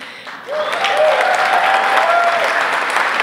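Audience applause breaks out at an annual dinner in Renton after a brief pause, rising quickly into steady, full clapping that carries on evenly, with a voice faintly audible over it.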